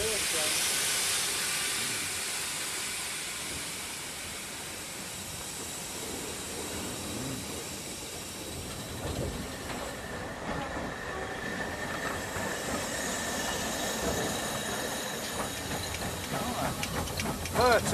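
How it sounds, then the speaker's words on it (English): A Great Western Railway steam locomotive at the Didcot Railway Centre hisses and rumbles steadily nearby, with broad steam noise and rolling train sounds running through the whole stretch and a faint voice at times. "you get the feeling of what steam locomotion was like on the Great Western Railway"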